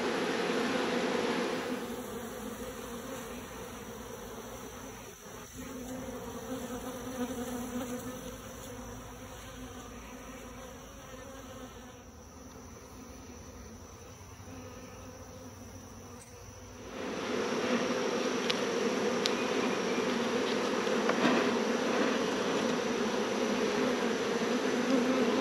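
Honey bees buzz thickly around a swarm trap in a continuous droning hum, close and steady, dipping somewhat in the middle and then swelling louder for the final stretch.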